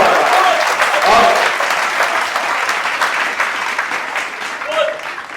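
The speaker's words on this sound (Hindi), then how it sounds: "भाई बाबा, एक बार जोरदार तालियां हो जाए।" Loud, sustained applause from an audience at a Vijayadashami poetry recital, dense clapping throughout with a few brief overlapping voices.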